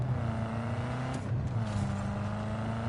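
A car driven in the game Cyberpunk 2077 Phantom Liberty, its engine giving a steady low hum that holds throughout, with faint background game sounds and no talk.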